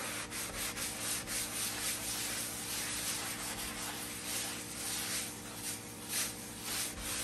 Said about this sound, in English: I'm just gonna keep scrubbing this so I can see along the edges that it's getting